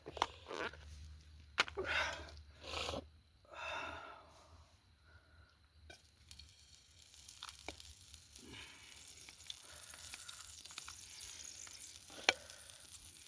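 Onions frying in extra butter over a night campsite cooking setup: soft sizzling and stirring scrapes with some clattering, broken by brief bursts of nearby talk and handling noise.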